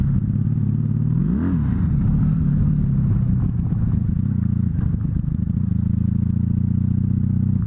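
A Honda Magna bobber motorcycle engine runs loud and steady throughout, with a brief rising rev near the start as the rider attempts a drift, then settles into a constant rumble.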